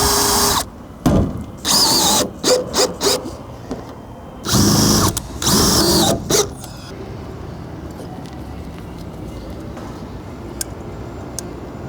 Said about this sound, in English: we can go through and screw this piece on